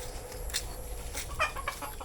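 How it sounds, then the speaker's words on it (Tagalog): A chicken clucking close by in a rural province setting, a few short soft clucks over a constant low background noise. "Ay, ng manok pala."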